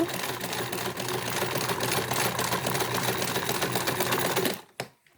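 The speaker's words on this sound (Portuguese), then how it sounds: "venho e costuro aqui na beiradinha novamente do viés" A sewing machine stitches bias binding along the edge of a mask pouch, humming steadily and close for several seconds before stopping abruptly, followed by a few brief handling clicks.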